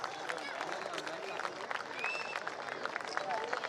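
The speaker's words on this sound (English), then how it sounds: "A loud cheer, please." An audience at the Vizag Steel Plant (RINL) Formation Day 2020 awards ceremony applauds and cheers, sustained dense clapping with a few whistle-like cheers rising above the crowd noise.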